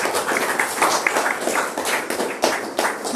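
Audience in a lecture hall at a talk by a pastor applauding, a dense steady patter of many hands clapping at close range for the whole stretch.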